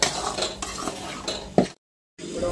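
Gram flour (besan) dry-roasting in a pan as a spoon stirs and scrapes it, soft repeated scraping with a louder clink near the end, then a short gap before stirring resumes.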